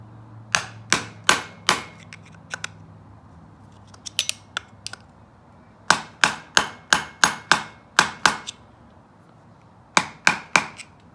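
A hammer strikes to bend up the locking tabs on a 30 mm nut during a Yamaha YFZ450 engine teardown: sharp, ringing metallic taps come in quick bursts of three to seven, with scattered lighter hits between and no talking.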